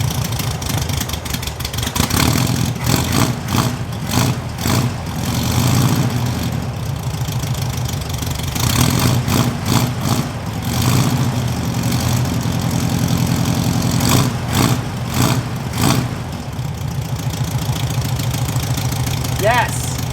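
A bagged 1960 BMW 700 with a swapped-in 1600cc engine cranks over in rhythmic starter bursts, catches and settles into a rough, lumpy idle close by, with occasional revs.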